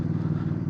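Bear 650 motorcycle fitted with a Red Rooster Performance aftermarket exhaust, engine running with a steady, loud low rumble close by, held at a fairly constant idle-to-mid rev level with no talking.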